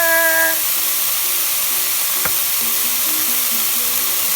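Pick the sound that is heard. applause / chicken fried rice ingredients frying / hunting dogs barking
chicken fried rice ingredients frying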